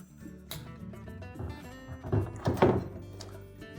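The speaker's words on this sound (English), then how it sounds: "Now next we'll reinstall the counterweights on the side." A counterweight knocks against the tub of a Whirlpool washer as it is hung in place, giving a few dull thunks and a louder clunk near the end, with softer handling noises around them and no talking.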